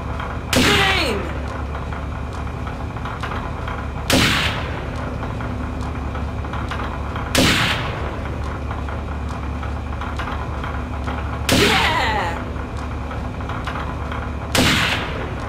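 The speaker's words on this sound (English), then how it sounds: "So take this sniper rifle and get yourself into position." Sniper rifle shots in the Second Sight video game, five loud single cracks spaced a few seconds apart, each with a short ringing tail, over a steady low background hum.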